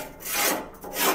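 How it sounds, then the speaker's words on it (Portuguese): Sanding a smooth machined metal part for a grass or corn grinder in a lathe workshop, with a short, soft abrasive rasping in two close strokes. "Dá uma lixadinha."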